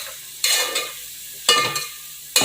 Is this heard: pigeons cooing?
no